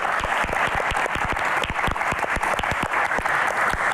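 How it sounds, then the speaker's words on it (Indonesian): Applause from an audience at a Q&A event about a humanitarian trip to an isolated village in Aceh, brisk distinct claps in a lively rhythm, loud and continuous throughout. "Tepuk tangan untuk Sumatra."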